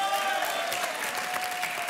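A television studio audience applauds arriving guests on a French dating show, a steady, fairly loud burst of clapping with a faint voice underneath.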